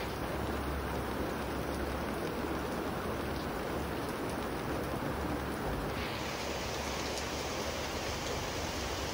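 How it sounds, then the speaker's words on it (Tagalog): Steady, dense afternoon rain pouring down onto surfaces, a constant hissing wash with no voices, continuous and fairly loud throughout. "Oh, nag-ulan na diri sa amo"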